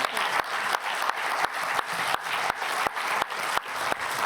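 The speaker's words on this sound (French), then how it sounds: "sous vos applaudissements" An audience at a university round table applauding Éric Blond, newly re-elected university president: a dense wash of clapping with a steady rhythmic beat running through it, sustained throughout.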